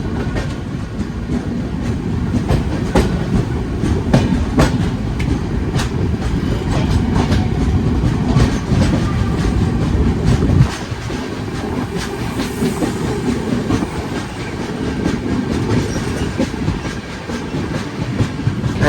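The Cocanada Express rumbles loudly and continuously along railway tracks, a steady heavy roar with rhythmic clickety-clack of wheels over rail joints, heard from on board.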